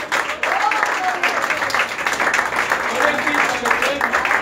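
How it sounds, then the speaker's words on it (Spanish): Church congregation clapping and cheering together, with voices calling out over a busy, steady wash of applause that sounds somewhat distant and roomy. "Dele fuerte el aplauso a Nazaret"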